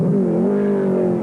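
A race car engine at the 1983 Bathurst 1000 Classic on the opening lap, with Peter Brock's Marlboro Holden Commodore leading, drones loud and close in a steady, sustained roar for about a second.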